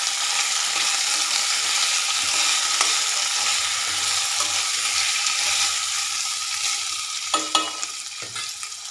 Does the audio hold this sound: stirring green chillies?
yes